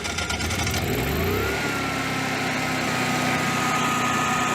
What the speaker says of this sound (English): Slow crank. She's having a hard time.